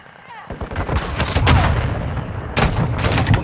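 Video-game gunfire from Call of Duty Modern Warfare 2 cracks out in loud bursts, a quick volley of close shots followed by a sharp blast near the end, with radio-style voices barely under the din.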